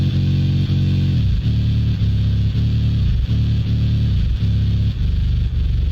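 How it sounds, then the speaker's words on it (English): A booming 808 bass line plays under a quiet hardcore 80s-style synth lead, with deep gliding bass notes repeating in a steady rhythm and a thin, faint lead layered on top. "Then I added some good old hardcore 80s lead preset and I just turned"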